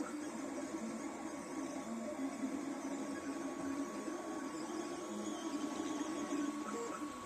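An Ortur 4 V1 3D printer runs steadily, a continuous mechanical whir with a faint steady whine and shifting stepper-motor tones, close and moderately quiet with no talking.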